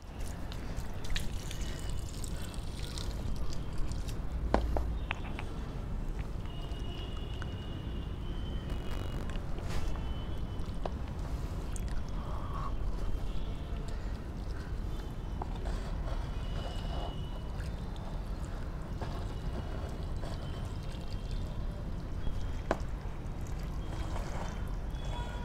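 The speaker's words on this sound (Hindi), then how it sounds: "चलंतु एबे एथरे पानी फिल करवा।" Water pours steadily into a lotus pot of soil on a rooftop, a continuous close rush and splash lasting the whole stretch with no talking.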